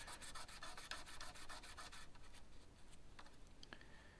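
Sandpaper rubbed back and forth over a Grote GR35MT guitar with P90 pickups during cleaning, a steady rapid rasping series of strokes for about two seconds, then quieter scattered scratches as the sanding eases off.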